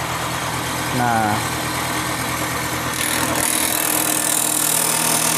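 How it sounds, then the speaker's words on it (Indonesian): Bamboo processing machine runs with a steady mid-pitched motor hum while peeled bamboo is fed through it, with a brief rising whine near the start and a short spoken word over the constant drone. "Lalu mesinnya dihidupkan."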